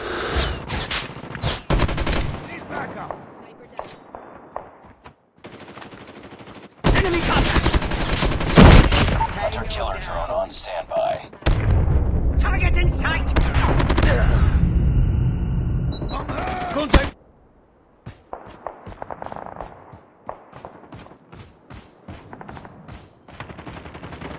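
Gunfire from the mobile shooter game Call of Duty Mobile comes in loud bursts and rapid volleys between quieter gaps, with game voice lines heard over the shooting.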